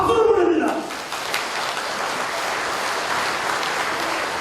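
Audience applause at a national security forum in a hotel hall, breaking out as an elderly speaker's voice fades in the opening moment, then a steady, dense clapping that holds evenly to the end.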